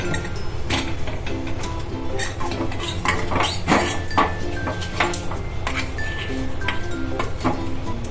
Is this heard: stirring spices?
yes